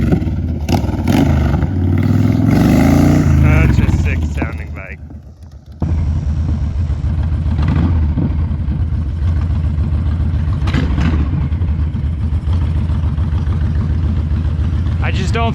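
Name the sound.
Honda Sabre VT1300CS motorcycle riding back around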